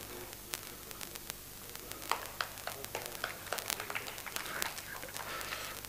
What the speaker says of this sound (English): Only very few claps.